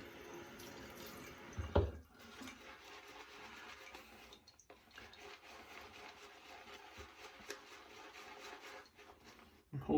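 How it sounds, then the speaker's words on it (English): Water trickling from a tap into a shaving brush lather at a sink, a faint steady running wash with a brief louder splash near the start. "Let me add some more water."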